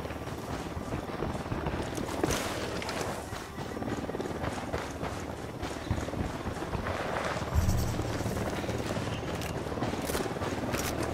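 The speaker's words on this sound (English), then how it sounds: "Chopper's approaching." A helicopter approaching during a video game mission, a steady churning rotor-like drone with wind noise beneath scattered clattering impacts, growing slightly louder toward the end.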